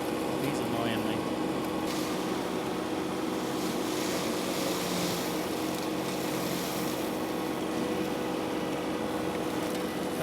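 Tractor running a flail mower on a steep, dirt-patched slope with weeds, a steady loud droning engine and cutting noise continuing throughout without a break.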